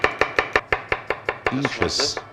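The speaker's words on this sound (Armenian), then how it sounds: "Նուշը կտրատեցինք, բարեկամներ, 1 պճեղ սխտոր, նույն մանրությամբ" A kitchen knife chops a single garlic clove finely on a cutting board, about a dozen sharp, evenly spaced strikes close up, followed by a short bit of speech at the end.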